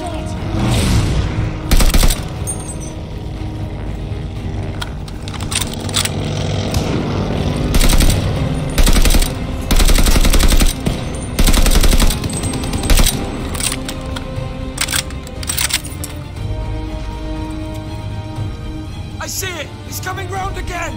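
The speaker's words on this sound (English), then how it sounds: "Enemy machine gun!" An enemy machine gun rattles in bursts during a Call of Duty Vanguard firefight, sharp loud volleys and cracks scattered through a long stretch of battle noise, with frequent shouted talk over the gunfire.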